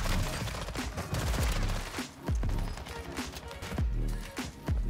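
Gunfire in Warzone 2, including a sniper rifle shot, comes as several sharp, loud reports spaced across the moment over busy game noise and footsteps.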